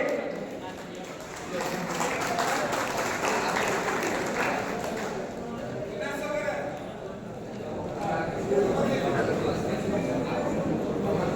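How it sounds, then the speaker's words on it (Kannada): A rally crowd at a Har Ghar Tiranga bike rally claps in honour of soldiers, a dense, sustained applause that swells and dips throughout, with voices mixed in. "ನಾವೆಲ್ಲರೂ ಚಪ್ಪಾಳೆ ಮುಖಾಂತರ ಮತ್ತೊಮ್ಮೆ ಸೈನಿಕರನ್ನು ಗೌರವಿಸಬೇಕಾಗಿ"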